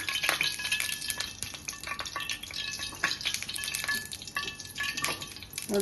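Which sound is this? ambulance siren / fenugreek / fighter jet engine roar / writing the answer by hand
fenugreek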